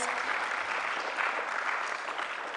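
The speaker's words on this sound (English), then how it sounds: "Please, let's give them a round of applause." Dense, continuous audience applause fills a concert hall at a choral anthems concert, with a full, even wash of many hands clapping at once and no voices heard.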